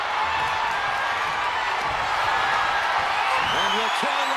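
A steady, dense crowd roar fills the WWE 2K25 wrestling arena throughout, with a cheering wash of noise that never lets up and a voice briefly rising over it near the end.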